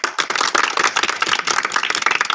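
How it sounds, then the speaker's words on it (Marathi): An audience at a school bhajan event claps to welcome a child singer, a dense burst of many hands applauding briskly and loudly for a couple of seconds with no talk. "सर्वांनी टाळ्या वाजून जोरदार"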